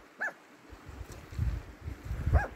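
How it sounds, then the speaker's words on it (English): A dog in the Chilcotin mountains gives two short high whimpering yips, one at the start and one near the end, with low rustling between, fairly faint and close. "Fearless wonder dog of the mountains."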